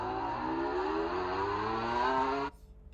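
Loud, steady wail of a Yamaha V4 MotoGP racing motorcycle engine at high revs, pitch slowly rising, then cutting off abruptly near the end.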